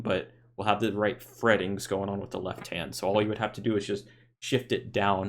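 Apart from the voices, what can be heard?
None of the usual background noises is heard.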